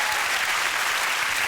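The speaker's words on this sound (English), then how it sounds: "a round of applause." Studio audience applause on a television chat show, a dense, continuous roar of clapping that stays loud and even from start to finish.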